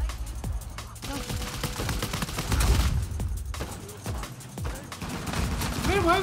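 Rapid bursts of gunfire from the video game Uncharted 4 crackle almost continuously in a busy firefight, with intermittent voices speaking over the shooting.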